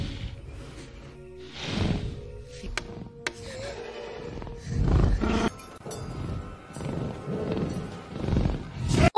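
A creature from the Avatar film breathes and growls in deep, pitched-down, raptor-like rasps, rising in loud swells with harsh huffs and bursts across the stretch.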